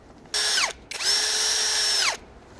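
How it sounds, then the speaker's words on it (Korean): Power driver unscrewing Phillips screws on a car brake assembly, two loud close whirring bursts, the first short and the second longer, each winding down in pitch as it stops. "임팩은 툭툭툭툭툭 쳐주니까 훨씬"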